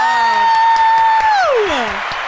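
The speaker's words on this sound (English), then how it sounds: "give a nice round of applause" Canned applause and cheering play on a sports podcast to welcome a guest, a crowd wash blended with a sustained whistle-like tone that slides downward before fading.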